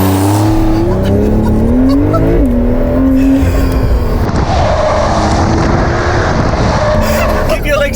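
A 2020 Porsche 911 992 Cabriolet pulling away, its engine note climbing through gears with loud, close revving and shifts, then settling into a steady roar of road and wind noise.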